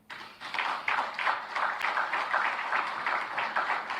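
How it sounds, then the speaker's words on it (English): A quiet crowd at a CPAC Paraguay political speech claps steadily and evenly, a soft sustained patter of applause heard from some distance with no voices over it. "First time the crowd applauded, they're pretty quiet crowd."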